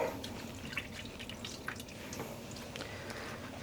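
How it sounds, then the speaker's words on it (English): Wet dyed yarn squeezed by hand, giving soft faint drips and trickles of water falling into a tub, quiet and close with no talking. "I'm going to squeeze out some excess water."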